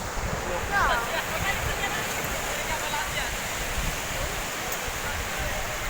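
Strong sea waves roll and wash at Pundaquit beach in Zambales, a continuous broadband roar of surf mixed with wind buffeting the microphone, with people talking briefly over it.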